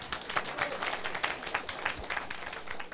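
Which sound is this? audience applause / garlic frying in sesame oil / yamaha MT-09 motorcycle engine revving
audience applause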